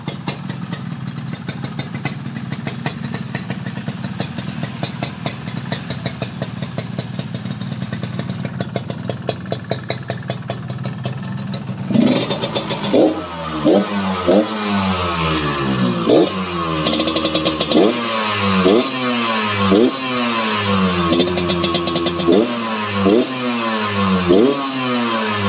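A 2004 Yamaha RX King motorcycle engine idles steadily and close by for about twelve seconds, then breaks into a series of sharp, repeated throttle revs that rise and fall until the end, with no talking.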